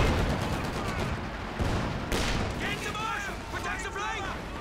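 Panzer IV tank cannon shots boom in a Company of Heroes 2 match, two heavy blasts amid ongoing battle gunfire and explosions, with a commentator talking throughout.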